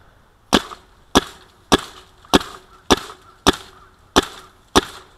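A 2013 Proto Reflex Rail paintball marker with an aftermarket bolt fires eight sharp, evenly spaced shots about two-thirds of a second apart, each a crisp pop with a quick decay, loud and close with no talking.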